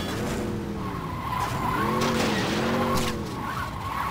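Saints Row 2 video game car drifting, a steady sustained tire squeal with wavering pitch over engine noise, loud and continuous with no talk.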